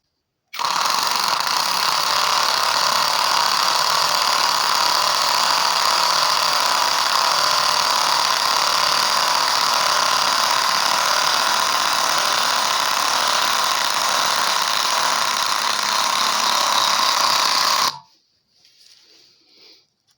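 A REVOLT TW 20/350 cordless impact wrench set to its lower driving speed whirs steadily and loudly for about seventeen seconds with no talk, then cuts off sharply, leaving a faint trailing noise.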